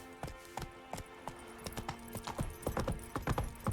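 Roach the horse gallops in The Witcher 3, hooves clip-clopping in a quickening, irregular patter over a low steady hum, close and distinct, no voices.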